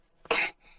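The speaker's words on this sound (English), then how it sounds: "As I thought, Pedro's cough is catching." A cartoon character gives one short, sharp, close cough in an otherwise quiet moment.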